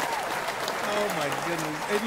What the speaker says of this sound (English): Give us some applause over there.